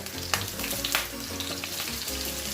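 Onion sizzles in a bit of oil in a clean pan, a close, steady frying crackle with a couple of sharper pops and stirring scrapes, no voices.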